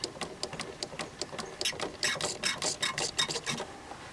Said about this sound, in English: Alright, I'm going to pump this fluid out.